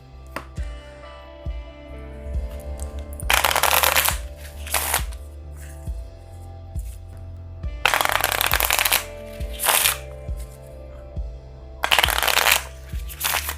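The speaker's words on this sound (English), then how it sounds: "I'm just going to shuffle all the calm seas back into the deck" Cards from an Atlantis Rising board game deck shuffled close by in three loud riffle bursts separated by quieter handling, with no talk.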